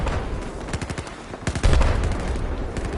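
Rapid bursts of automatic gunfire in the video game Battlefield 4, loud and continuous, with repeated cracking shots and a heavier blast partway through.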